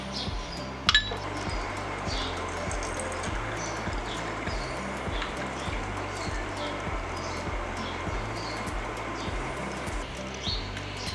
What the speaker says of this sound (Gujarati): બરફના ટુકડા નાખીશું